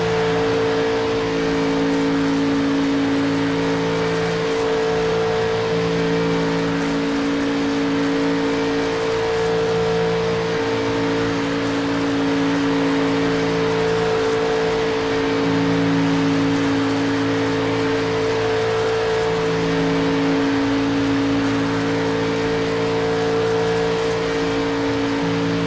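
On-board engine of the Grid Finder race car in a racing video game, a steady, loud, sustained engine drone with shifting pitch that runs continuously and stays close, with no talking.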